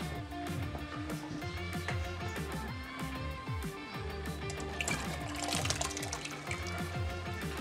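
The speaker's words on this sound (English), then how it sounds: "To this I'm going to add in my red peas that I've been soaking from overnight." Soaked red peas are tipped into a pot holding four cups of water for a Jamaican vegetable soup, giving a steady watery splash and slosh that runs the whole time at moderate level.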